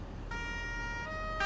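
Emergency vehicle siren in Farming Simulator 19 while escorting a cycling race, a steady electronic wail that switches tone partway through and comes on fairly loud.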